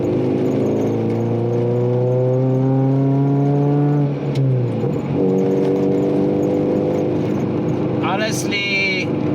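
A modified Ford Figo with an altered exhaust revs hard in second gear. The engine note climbs, drops off around the middle, then picks up again over a bumpy ride, and a brief clatter comes near the end.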